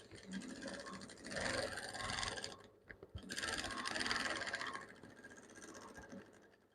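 A sewing machine stitches palazzo pants fabric in two steady mechanical runs split by a short pause, close and fairly quiet.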